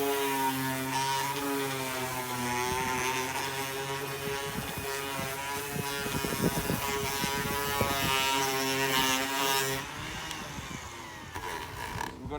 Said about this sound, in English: we're gonna quickly sand down the surfaces where we drilled